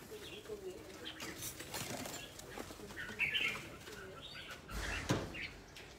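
A bird flaps its wings and coos faintly in brief bursts against low, soft background noise.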